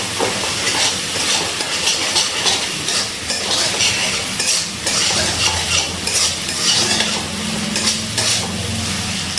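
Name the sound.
stirring ginger and green chili paste into spices in pan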